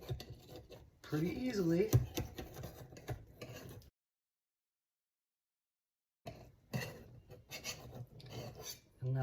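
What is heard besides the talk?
knife scraped around edge of pasta cups in pan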